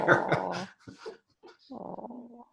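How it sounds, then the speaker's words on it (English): A big golden doodle growls in several rough bursts, then gives a longer lower growl with whimpering tones, close and fairly quiet, with short pauses between. "Oh, and that is a big dog."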